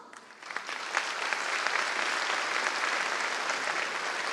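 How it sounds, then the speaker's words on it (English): A dinner crowd at the European Chamber of Commerce Taiwan gala, with President Lai Ching-te in attendance, applauds to welcome the chairman to the podium; thick, even clapping builds quickly and holds steady to the end. "Round of applause"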